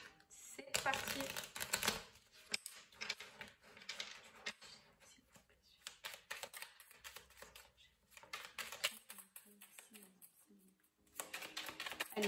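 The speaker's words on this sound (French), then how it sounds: "On va prendre une petite carte du petit oracle du tarot." Tarot oracle cards being shuffled by hand: a soft, steady riffling and rustling across the clip, with a person talking quietly at times.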